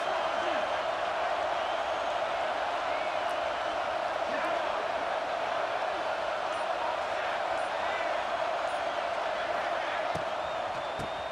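A dense, constant roar of a stadium crowd in EA Sports College Football 26 fills the whole stretch, a steady wash of noise with faint whistles and shouts in it.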